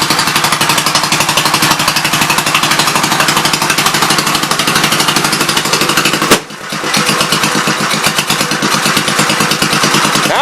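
A 1952 Gravely L walk-behind tractor runs close and loud after clearing carbon from its exhaust valve, its single cylinder firing in a rapid, even putter that stumbles briefly once before settling back into rhythm.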